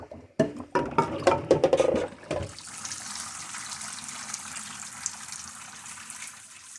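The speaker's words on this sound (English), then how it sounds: "Now I'm going to come over here and I'm going to drain my broccoli" Cooked broccoli and carrots are drained into a sink, starting with a few seconds of loud, uneven splashing and pouring, then fading to a soft, steady trickle and hiss of water running off.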